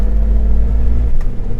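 A 1988 BMW E24 635CSi, turbocharged, held at the rev limiter in third gear, a loud steady engine drone that drops off sharply near the end of the short burst.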